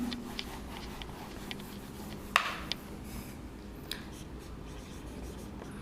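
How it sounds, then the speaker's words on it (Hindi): Chalk or marker scratching and rubbing on a classroom board as text is erased and rewritten, heard as faint, scattered ticks and short strokes with one sharper tap near the middle, in a quiet room with no talking. "इसको हम मिटा के लिखते हैं।"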